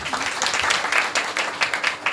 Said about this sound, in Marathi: त्यांच्या स्वागताकरता एकदा टाळ्या वाजवा